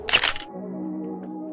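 Camera shutter and flash firing during a portrait photoshoot with a Nikon D7500, one sharp crisp click burst up close, followed by a lingering low hum.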